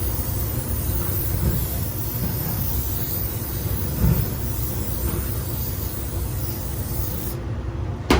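A steady hiss of cooking oil spray onto a grill runs throughout, close and continuous, with no talking.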